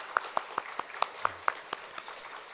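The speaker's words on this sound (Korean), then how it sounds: "우리 찬양으로 섬겨주시는 성가대원들 사랑과 축복의 박수 부탁드리겠습니다" At a Sunday church worship service, the congregation claps for the choir in about ten sharp, evenly spaced beats, moderately faint and in unison, with no talk over it.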